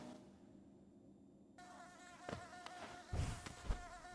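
Hive insects in the Hollow Knight video game drone with a faint, high buzz that swells after a quiet start, joined by sharper bursts and pulses toward the end.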